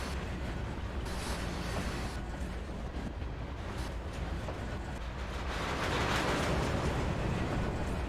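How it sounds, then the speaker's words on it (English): Custom train slack sounds in Trainz Railroad Simulator 2019, a continuous rumbling rail noise with occasional knocks and clanks of couplers, steady and fairly close, swelling louder near the end. "So how do you guys like my my custom slack sounds?"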